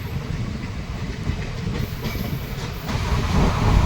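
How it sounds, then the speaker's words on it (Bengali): Mayurakshi Express running at about 90 km/h on a hilly Jharkhand line out of Deoghar toward Howrah at night: a steady loud rumble and rattle of wheels on rails with broadband rushing noise, swelling slightly near the end. "দেওঘর থেকে ছাড়ার কিছুক্ষণের মধ্যেই ট্রেন 90 স্পিড নিয়েছে"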